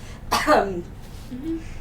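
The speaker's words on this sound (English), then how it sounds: "I'm going to cough" A single throaty cough, followed by a short voiced sound.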